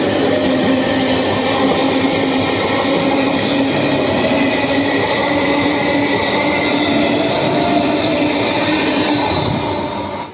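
A Bandel local train runs on the Howrah to Bandel line, a loud, steady rumble of wheels and carriages with metallic squealing throughout, no voices.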